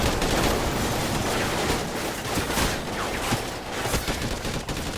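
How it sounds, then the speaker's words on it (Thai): Call of Duty Ghosts gunfire in a video game: a continuous, dense barrage of rapid shots and explosions, loud and sustained without pause. "ยิงปืนแบบสุ่มๆนี่หว่าพวกนี้"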